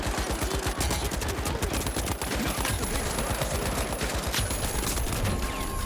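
Heavy's gun in the video game The Finals firing sustained rapid bursts, loud and dense, a continuous rattling barrage for several seconds with no talk over it.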